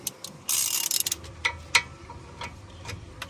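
Half-inch ratchet clicking while loosening 17mm brake bolts on a 2013-2017 Honda Accord, several sharp metallic ticks and a short burst of ratcheting, close and moderately loud in a quiet garage.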